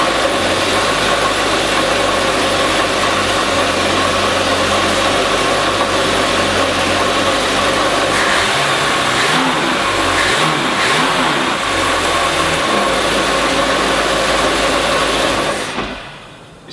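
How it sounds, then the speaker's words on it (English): The engine of a Fletcher 21 Arrowbolt boat runs at a steady, loud idle close by, an even rumbling drone that holds for most of the time before cutting off abruptly near the end. "I just want to fire up the engine as well while we're looking at it, just to show you how easy it is to start and how smooth it sits and idles"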